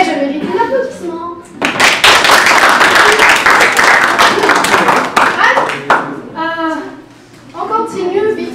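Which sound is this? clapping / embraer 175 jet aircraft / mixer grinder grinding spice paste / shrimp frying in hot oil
clapping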